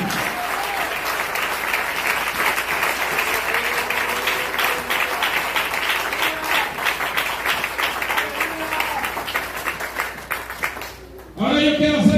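Loud, sustained applause from a church congregation fills the room, steady clapping that swells and continues before cutting off near the end.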